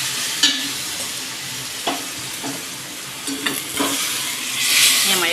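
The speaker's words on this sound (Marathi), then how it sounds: "तर ह्याला मी फोडणी दिली." Spiced tempering for gavar dhokli sizzling in a pan, a continuous close hiss of hot oil punctuated by several sharp scraping and clinking stirs of a spoon.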